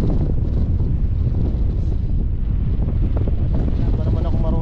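Gusty outdoor wind at a ride and jump session roars steadily and loudly against the microphone, with faint voices buried in the noise.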